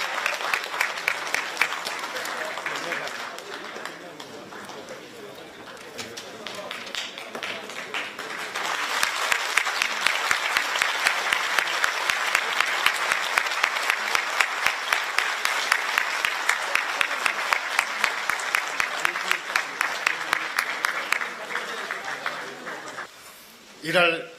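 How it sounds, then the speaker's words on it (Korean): Sustained applause fills a parliamentary party caucus after a floor leader's election is announced, building into loud rhythmic clapping in unison before fading out. "뜨겁게 박수 부탁드리겠습니다"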